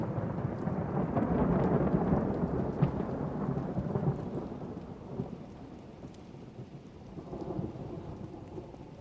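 Deep, loud thunder rolls and rumbles through a heavy rainstorm, peaking early and then fading into steady rain with a softer later rumble.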